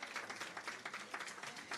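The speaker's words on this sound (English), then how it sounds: "Clap him. Put your hand." Dense, steady applause from an audience at an awards ceremony honoring a recipient, a continuous wash of many hands clapping at close range with no speech over it.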